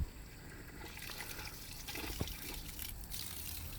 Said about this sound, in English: Let's get the water going.